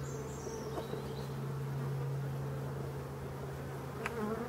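Steady insect buzzing from many honeybees at an abandoned hive in a forest, a continuous low drone with a few brief sharper accents, sustained throughout at moderate level.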